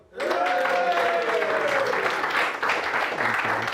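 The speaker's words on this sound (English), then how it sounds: "Big round of applause, everyone" A studio audience applauds to welcome a guest on a football preview show. Steady, loud clapping starts abruptly and runs throughout, with a voice talking over it at the start.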